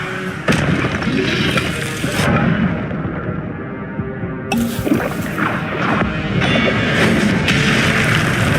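Spell effects from Hogwarts Legacy, a fiery Incendio blast and a Levioso lift, burst out as dense, loud crashes and booms with whooshing bursts, broken by a brief quieter gap midway.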